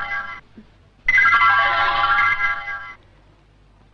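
A mobile phone plays a melodic ringtone in short bursts: a brief phrase, a pause, then a louder, longer stretch of tones that fades out, all close and clear with no talking.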